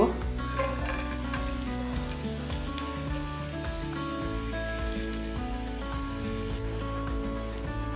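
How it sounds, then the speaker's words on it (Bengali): Food sizzles steadily in a hot pan, a soft continuous crackle under background music. "এখন তিরিশ সেকেন্ডের মতো ভেজে নিব"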